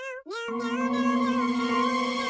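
A frightened kitten cries out in a long, loud, wavering meow that rises and holds steady, following a shorter mew just before it, close and alone.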